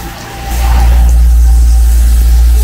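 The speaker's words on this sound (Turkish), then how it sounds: "şöyle kenara doğru araba geliyor aşkım" A car comes along a village road toward the roadside, its engine a deep, loud rumble that swells within the first half second and then holds steady and close.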